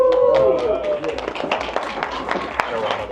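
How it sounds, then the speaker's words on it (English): Applause from wedding reception guests, a scattered patter of many hands clapping in the room while a voice and background tones carry on over it. "A round of applause, please, ladies and gentlemen."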